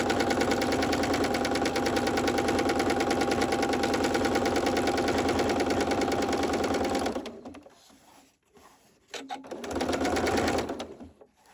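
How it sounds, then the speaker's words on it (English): A sewing machine does free motion embroidery around an outline on felt for a fabric-scrap Christmas robin. It runs fast and steady for about seven seconds, pauses, then runs in another short burst, loud and close. "Now sew all the way around the outline again with free motion embroidery."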